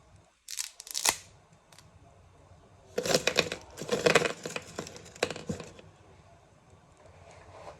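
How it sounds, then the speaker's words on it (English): Dry noodles snapping in short crunchy bursts: one sharp cluster near the start, then a longer run of brittle cracks and a final few snaps, close and fairly loud against a quiet room. "the satisfying noise of the noodles breaking"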